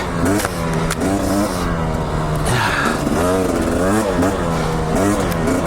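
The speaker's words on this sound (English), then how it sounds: "Listen to that two-stroke grunt in second gear, feathering the clutch there a little bit." A 250 two-stroke dirt bike engine pulls hard in second gear on a mountain trail as the rider feathers the clutch, producing a loud, continuous, close-up raspy drone whose pitch rises and dips with the throttle.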